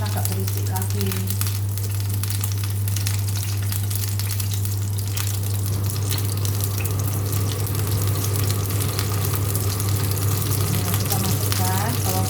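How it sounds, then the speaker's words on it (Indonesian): Chopped garlic sizzles steadily in hot oil in a pan while cooking mie wudhun noodles at home, a continuous crackling fry with a low steady hum beneath. "Kita masukkan bawang putih itu, kita goreng sampai harum"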